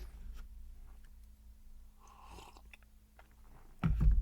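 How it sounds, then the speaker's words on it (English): A close, airy slurp of hot coffee taken in a quiet room, a brief sip in the middle followed by a sharp, heavy knock near the end, with no talking. "if you can't hear the slurp of coffee, the sip of coffee, that was a sip"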